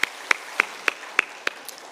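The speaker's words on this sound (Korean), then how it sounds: "하나님 앞에 영광의 박수를 올려드리겠습니다" A congregation claps during a Sunday church service: crisp, evenly spaced claps at roughly three per second, sounding in unison and steady through the whole moment.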